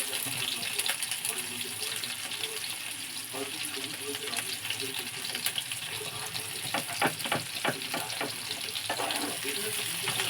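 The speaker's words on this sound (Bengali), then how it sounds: "পেঁয়াজটা একটু ভাজা ভাজা হলে আলুটা দিয়ে দেবো" Onion frying in hot oil at the start of a spicy small tangra fish curry, a steady broadband sizzle with crackling pops throughout, close and continuous.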